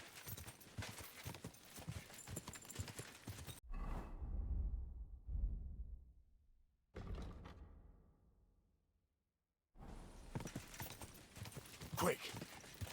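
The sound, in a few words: horse galloping in video game Kingdom Come Deliverance II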